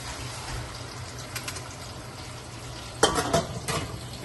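Pompano fish fries in hot cooking oil with a steady close crackle and sizzle, then a burst of louder spattering and clatter from the pan near the end.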